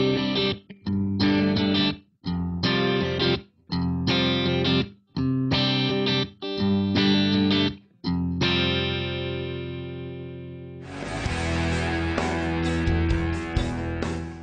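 A clean electric guitar played through a Line 6 POD X3 Live on its Class A top boost amp model, with chorded strums in a rhythmic pattern, sustained ringing chords, then a brighter layered passage, close and loud.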